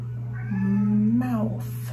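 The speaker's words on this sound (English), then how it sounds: "sorry, you can hear the cat," A cat meows in a drawn-out, rising and falling cry, then a second shorter meow, close by over a steady low hum.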